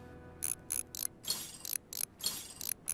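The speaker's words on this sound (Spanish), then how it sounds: "Vale, vamos a quitar estos tornillos de aquí." Screws being removed in the video game Farm Mechanic Simulator 2015, a series of about eight short ratcheting mechanical bursts in an uneven rhythm, close and fairly quiet over near silence.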